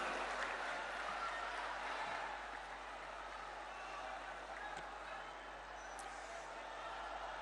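Faint applause from a crowd at an outdoor public ceremony in Sagar, Madhya Pradesh, welcoming the chief minister, a soft steady patter heard from a distance over a low hum.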